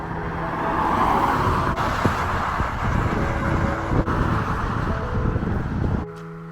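Steady roar of cars passing on a nearby road along a walking route, a continuous broadband rush of traffic with some wind buffeting, ending abruptly in a quieter lull.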